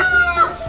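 Rooster crowing loudly and close, a single sustained cock-a-doodle-doo call with no speech over it.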